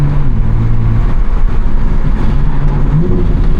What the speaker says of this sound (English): So it's still ignition cutting, but it just shifts so quick.